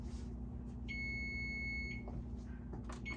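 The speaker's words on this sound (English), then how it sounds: "my beeper is saying that it's done right now" A kitchen timer signals that pumpkin bread baked in jars in the oven is done, giving one sustained, shrill electronic beep lasting about a second over a quiet room hum.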